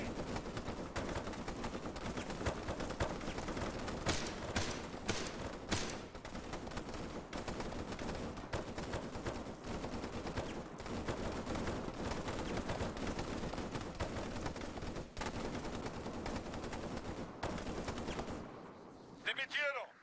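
Sustained machine gun fire in the military shooter Arma 3, dense rapid bursts rolling on for most of the stretch at steady loudness, with a voice talking over the shooting.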